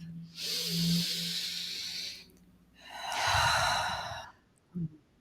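Two slow, deep breaths close to the microphone: a long airy inhale followed by a fuller exhale, each a couple of seconds long, ending with a short sharp sniff.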